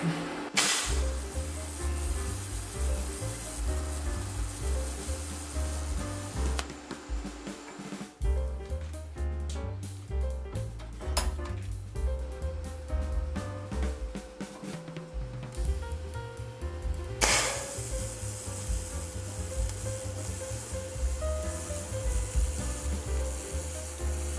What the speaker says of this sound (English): Oh wow, that's my best filler weld yet.